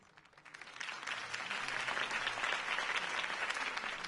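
A crowd's applause swells up and holds steady, a dense, sustained wash of clapping with no voices standing out.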